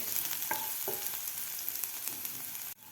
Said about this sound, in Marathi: आता आपल्याला हे वाटण एक मिनिटभर व्यवस्थित परतून घ्यायचं आहे